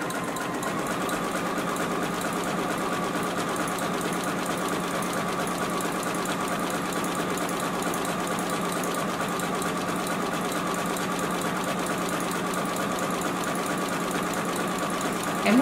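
A JUKI sewing machine stitches a beverage coaster in a steady, continuous mechanical whir with a fine rapid needle rhythm, close and even throughout without pause.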